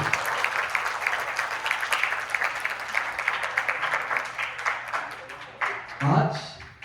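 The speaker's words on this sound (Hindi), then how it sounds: "एक बार जोरदार तालियां हमारे स्पॉन्सर्स के लिए।" An audience claps steadily in sustained applause that tails off near the end, with a brief low voice or thump at the close.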